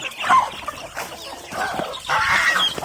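Crossbred fighting roosters and hens on a mixed farm give repeated nearby clucks and squawks in irregular bursts, with a few brief pauses between louder calls.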